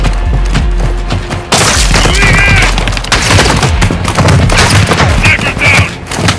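Rapid gunfire in Call of Duty Modern Warfare 2 rattles in loud bursts with booming impacts and thuds, while voices call out over the shooting.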